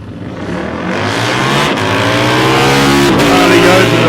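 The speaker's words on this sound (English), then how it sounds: "It's a motorbike, good to hear." Drag racing motorbike at South Coast Raceway, a loud continuous engine roar with rising revs that builds over the run, heard alongside talk.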